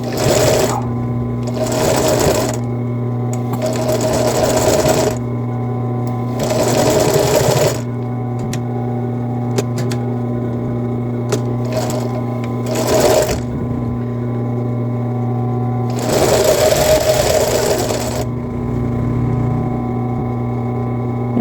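An industrial sewing machine stitches elastic onto a bra in a series of loud, close whirring bursts with short pauses between them, over a constant mechanical hum.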